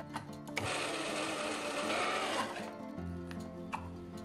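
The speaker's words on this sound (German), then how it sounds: "Alles zusammen pürieren." Blender puréeing mango pieces with mint, green chili, garlic, Himalayan salt, fennel seeds and cumin for a chutney: a loud, steady motor whir that runs for about two and a half seconds, then drops to a lower hum.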